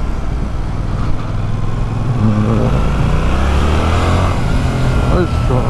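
A 2024 Yamaha MT-07 motorcycle pulls away in town, engine rising steadily beneath constant wind and road noise, with a rider talking over it.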